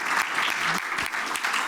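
An audience claps after a panel session at the Telebrasil Summit 2023, a steady, dense round of applause from a conference hall, with a few faint voices underneath.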